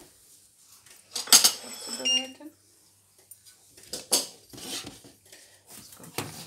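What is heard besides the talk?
pan and utensils handled while making Bulgarian pancakes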